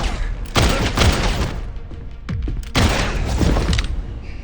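Pistol fire in the Resident Evil video game: two heavy, booming bursts, one near the start and one later, each a cluster of sharp reports with a long ringing tail, loud and close with no talk over them.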